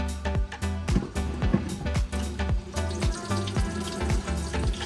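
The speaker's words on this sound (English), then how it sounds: "we're gonna get back to finish washing our Calaloo now" Tap water runs into a kitchen sink while callaloo leaves are washed, a close splashing stream broken by repeated knocks and clatters as the greens are handled, with no voices.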